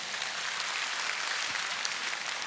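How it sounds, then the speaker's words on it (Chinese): Steady, dense applause from a theatre audience at a Cantonese opera performance in Sha Tin Town Hall, Hong Kong, a continuous wash of many hands clapping at even loudness without pause. "大家俾啲掌声大家先啦。"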